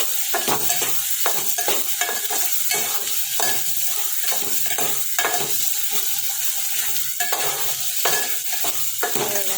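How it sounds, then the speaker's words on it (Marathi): Ground masala paste for chicken curry roasts in hot oil, a constant loud sizzle broken by a steady run of scraping stirs close by. "तेल सुटेपर्यंत जरा भाजून घ्यायचं मस्तपैकी।"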